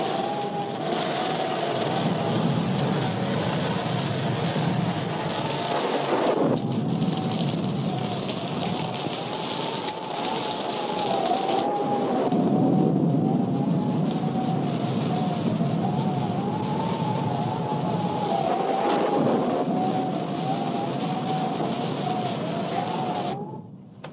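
Thunderstorm sound effect from a 1943 film, heavy steady rain hissing throughout with a couple of broad rumbling surges that could be thunder, and a faint wavering tone running beneath.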